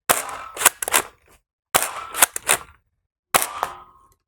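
A Nerf Rival blaster fires Proton foam rounds at a pot: three close, loud bursts of sharp pops and clacks, each followed by a brief silence, with no talking.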